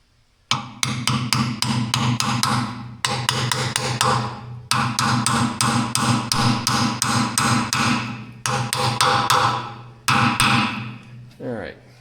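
A hammer drives a keyway into place during brake seal work on a U302 tractor, delivering rapid, loud metallic strikes in several sustained bursts separated by brief pauses.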